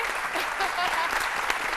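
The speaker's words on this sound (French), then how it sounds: "je vous demande d'applaudir très fort Alexis Ouédraogo et Michel Digré." A television studio audience applauds loudly for arriving guests on a midday show, a dense continuous wash of clapping throughout.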